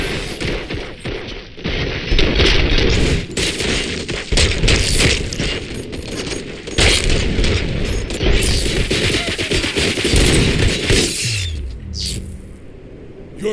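Heavy gunfire in RoboCop: Rogue City, a loud sustained barrage of shots mixed with crashes and mechanical clatter, thinning out near the end.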